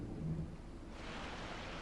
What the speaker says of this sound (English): When rain begins to fall, this is the first storm of the autumn